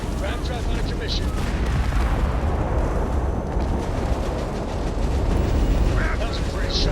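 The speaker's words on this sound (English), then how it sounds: "That was a pretty shot at their ram drive." Ship weapons in Starfield fire steadily on an enemy ship's ram drive, a dense, continuous roar of booming blasts and rumbling impacts that holds loud for the whole stretch, with voices mixed in underneath.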